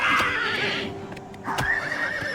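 Whinnying horse being attacked by a goblin in the video game Oblivion Remastered, with two close, loud neighs separated by a brief pause, plus a few soft thuds underneath.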